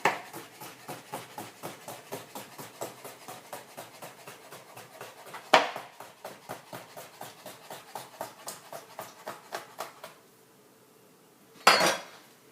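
A knife finely slicing hard-boiled egg whites, cut lengthwise into strips, on a cutting board, with quick, even taps in a steady rhythm, close and clear, pausing near the end before a sharper knock.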